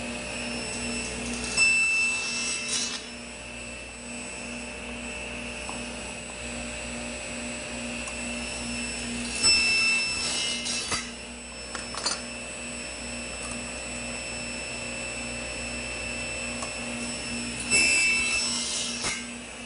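A table saw cuts wood on a sled for bridle joint slots, a steady near whine with a few louder bites as the blade passes through the workpiece. No speech.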